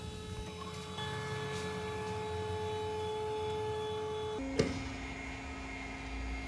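A Parflange flaring machine making JIC 37 and 45 degree flares on hydraulic tubing runs with a steady electric whine and hum, then a sharp mechanical clunk shifts its tone.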